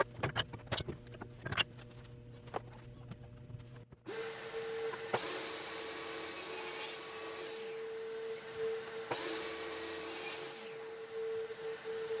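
A power tool whines up twice to cut back pieces for Ikea Flisat bookshelves, each cut a loud close screaming run of a few seconds, preceded by scattered knocks and handling clatter.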